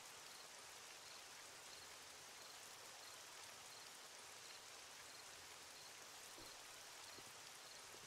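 Heavy rain pours down outside a house in a steady, dense hiss of drops hitting surfaces, constant and unbroken throughout.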